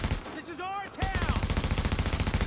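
Rapid automatic gunfire in Tom Clancy's The Division rattles in a steady, evenly spaced stream of loud shots, preceded by a brief tonal sweep.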